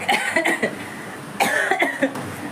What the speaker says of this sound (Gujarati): અમે લોકો બધા ખાંસી ખાવા લાગી ગયા છે